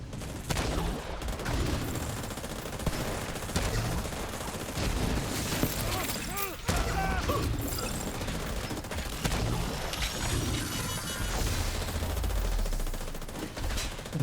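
Mortar fire in a shooter video game: dense, continuous rapid explosive bursts and gunfire fill the whole stretch, loud and busy, with game voice lines mixed in.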